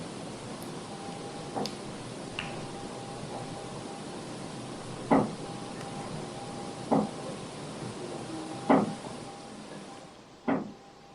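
Four or five sharp, isolated knocks sound at irregular intervals inside the old Malvern Manor building in Iowa, moderately close against a quiet hum, with no voices present.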